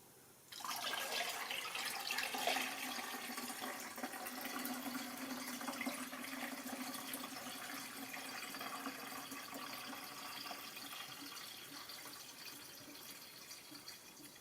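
Liquid pours steadily into a Mercedes heating system until it is full, a faint continuous gurgling fill that starts abruptly after a short quiet moment and tapers slightly toward the end, with no talking.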